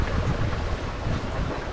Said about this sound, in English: Wind's picked up beautifully now.